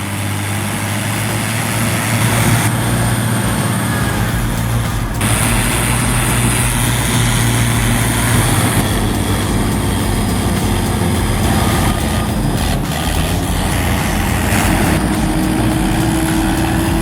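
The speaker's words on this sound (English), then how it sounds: "Thank God for the jungle tractor." Jungle tractor logging machine with a heavy diesel engine running, a loud continuous low drone with shifting mechanical tones and a rising whine near the end, close and steady with no talking.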